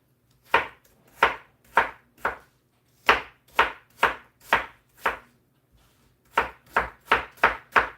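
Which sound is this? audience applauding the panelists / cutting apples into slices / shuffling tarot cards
cutting apples into slices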